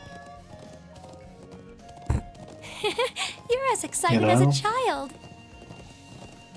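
Horse hooves clip-clop through a Zelda video game, a soft steady patter running beneath a loud, animated voice talking over it.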